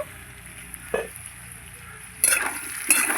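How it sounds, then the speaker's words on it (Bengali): Young jackfruit and potato pieces fry in a pan with a low, soft sizzle. Three short bursts of metal scraping and clatter come from stirring. "ঢাকা দিয়ে দিয়ে এই মাঝে মাঝে নেড়ে চেড়ে এঁচোড় আর আলুটাকে ভেজে নিয়েছি।"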